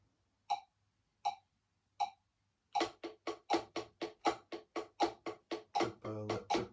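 A drum plays a triplet rudiment in 4/4 time: three sparse count-in clicks, then a steady run of sharp strokes grouped in threes, close and fairly quiet.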